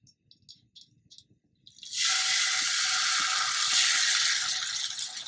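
Pancake batter hits a hot oiled pan and breaks into a loud, steady sizzle, holding strong for several seconds after a few faint clicks.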